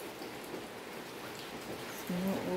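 Steady rain pours down during Typhoon Kristine flooding at a house in Bulacan, Philippines, a soft continuous hiss of falling water with a faint brief tone near the end.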